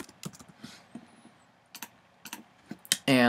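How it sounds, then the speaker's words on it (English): Keys tapped on a computer keyboard while entering an email address, sparse irregular clicks in short bursts, close and quiet, ending in a louder burst of noise. "So I'm going to type in my email"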